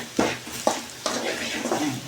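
A spoon stirs soybean chunks with masala spice powder in a pan, giving a few soft scraping strokes over a low sizzle, close and brief.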